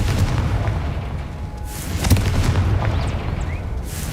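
Blast of the Confringo fire spell in Hogwarts Legacy, a muffled boom and crackling burst sitting in a continuous low rumble of game ambience, a couple of softer pops following, with no voices.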